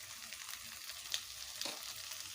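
Spices cooked with salt and turmeric in a pan for a fish curry with cauliflower and potato, giving a quiet, even sizzle with a couple of faint stirring clinks, no talking.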